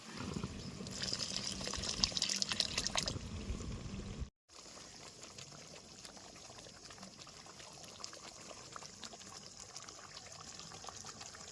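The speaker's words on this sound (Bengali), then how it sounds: "এবার দিয়ে দেবো পরিমাণ মতন গ্রেভির জন্য জল।" Water poured into a pan to make gravy for a village-style Afghani egg curry, a steady broadband pour for about four seconds that cuts off abruptly, followed by quieter trickling and low background noise.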